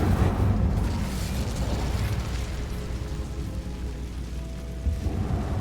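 A fire spell erupts in Hogwarts Legacy with a loud, sustained whooshing roar that rumbles steadily throughout, dense and close, with no talking over it.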